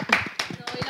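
A few quick hand claps ring out over people talking, brief and close, like a short burst of applause.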